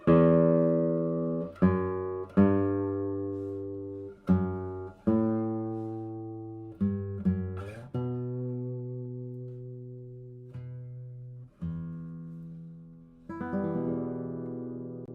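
Plucked notes on a guitar's sixth string ringing out one after another, low and rich with long sustains, a slow melodic line played alone without any voices.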